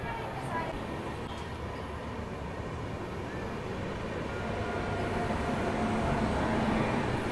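Dakshin SF Express train rolling along after departing Betul, a steady broadband rumble of wheels and carriage noise that holds loud and constant, swelling slightly toward the end, with a voice talking over it.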